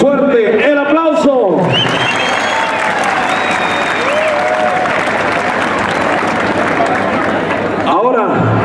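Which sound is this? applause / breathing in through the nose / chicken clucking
applause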